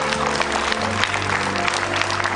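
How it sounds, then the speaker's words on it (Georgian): A studio audience at a late-night talk show applauds in a steady, dense clatter of many hands, loud and sustained, with a low tonal hum beneath. "აპლოდისმენტები."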